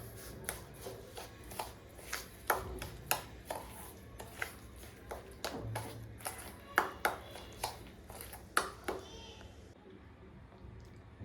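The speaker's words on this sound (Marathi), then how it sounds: "घरी लावलेलं दही आहे, छान घट्ट दही लागलंय. याला व्यवस्थित मिक्स करणार आहे." Thick homemade yogurt being stirred in a bowl, a spoon knocking and scraping in a quick, regular rhythm of sharp clicks that ends in a brief rustle, up close.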